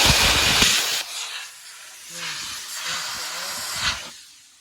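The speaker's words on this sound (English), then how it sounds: "So I have plasma cut all the way around" A plasma cutter slices through a rusty Mitsubishi Evo 5 chassis leg box section. Loud, close bursts of harsh roaring hiss rise and fall, with brief quieter gaps between cuts.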